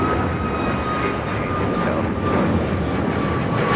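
A loud, steady roar from a fixed-wing aircraft at LAX continues without a break, with no talk over it.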